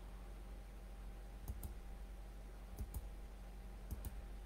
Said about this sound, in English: I'm going to just click on the stuff that I don't want and it's going to erase it